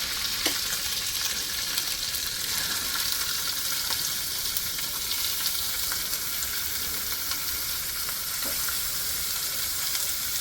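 Onions and capsicum frying with ginger-chili paste in a pan for paneer bhurji, a loud, steady, dense sizzle with a few faint stirring clicks, close and uninterrupted, no voices.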